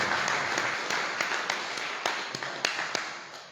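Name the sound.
applause for the organising committee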